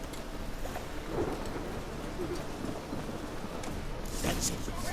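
Steady rain hisses in The Witcher 3, with low rumbles of thunder rolling beneath and a brighter crack near the end; a voice murmurs faintly in the background.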